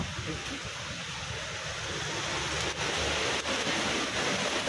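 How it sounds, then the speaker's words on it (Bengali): Steady rain pours down outdoors, a dense even hiss that holds throughout at close range, alone without any voices. "কি সুন্দর বৃষ্টির শব্দ"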